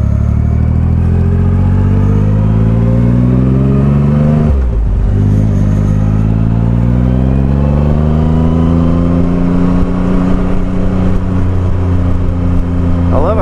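A Triumph Rocket III cruiser motorcycle's big engine rumbles steadily and loudly on a test ride, its pitch dipping briefly then climbing again as it revs back up, with a continuous low drone throughout.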